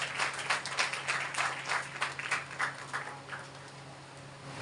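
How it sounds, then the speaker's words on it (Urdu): Church congregation applauding at a Sunday gathering, a dense wash of clapping that swells and holds, then gradually thins and fades toward the end, with no talk over it. "زوردار تالیاں خدا کے لیے بجائیں."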